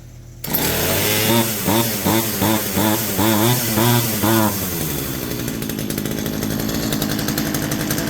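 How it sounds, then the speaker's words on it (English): Poulan 2150 chainsaw being revived, starting and running at a high idle: a loud, steady two-stroke engine drone with rhythmic pulsing revs early on, settling into a constant buzzing run. "Oh yeah, it's got a high idle setup."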